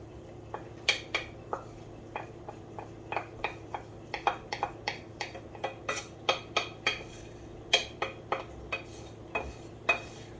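Metal utensil scraping garlic and onion out of a very hot pan, a rapid series of sharp clinks and scrapes in uneven rhythm, close and fairly loud, no talking.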